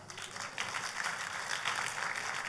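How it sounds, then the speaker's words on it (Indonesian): A church congregation claps in applause during a sermon, a fairly quiet, steady patter of many hands heard from some distance. "Saudara sudah tepuk tangan tapi belum apa-apa."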